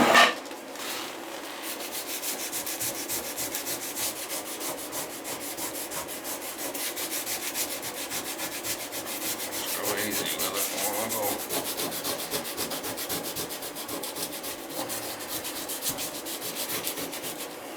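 An old bathtub spout is scrubbed to get grime off, giving a continuous close rasping rub in steady back-and-forth strokes that runs unbroken with no voices.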